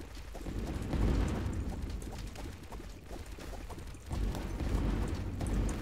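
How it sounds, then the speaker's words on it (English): Dense, continuous rumbling bursts of game explosions from the roguelite God of Weapons pile up at moderate loudness, with broadband crackle that swells around the first and last seconds. "Oh man, there's a lot of explosions."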